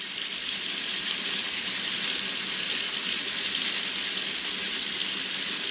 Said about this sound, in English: what I want to do with all of these pieces is just rinse them off